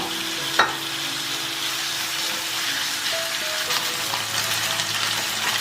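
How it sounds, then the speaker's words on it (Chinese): Chicken pieces frying in a little hot oil in a flat pan, a steady close sizzle with a brief clatter as they go in, continuing without talk. "加少许油，油温升高了，把鸡肉放进来煎"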